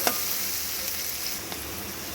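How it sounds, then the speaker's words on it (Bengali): Onion, garlic and chilli sizzle steadily in a hot pan, a dense crackling hiss with a few small pops and stirring scrapes. "এদিকে পেঁয়াজ রসুন আর লঙ্কাটা ভাজা ভাজা হতে থাকুক"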